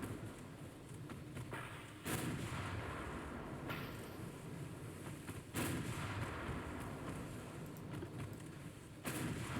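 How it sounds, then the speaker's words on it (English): Warship cannons fire in the naval game Ultimate Admiral: Dreadnoughts, three or four heavy booming blasts spaced a couple of seconds apart over a constant rumbling sea-battle background, with no talking. "we're going to attempt to get all of our cannons firing on him"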